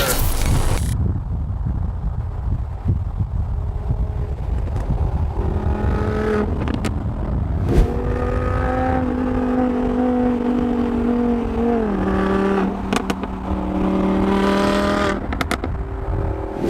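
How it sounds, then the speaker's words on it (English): A loud BMW M5 turbo engine revs and accelerates up close, rising and falling in pitch with shifts, droning steadily throughout. "That M5 sounds sick. You hear them turbos."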